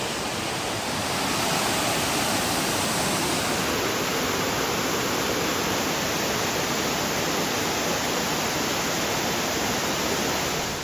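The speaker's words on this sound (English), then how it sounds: "there is even a viewpoint to look on this waterfall from above" A waterfall in Krabi, Thailand pours in a steady, loud, unbroken rushing roar close by, broadband and even from start to finish with no voices.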